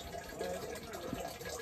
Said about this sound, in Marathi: इथून वरून पाणी येतं.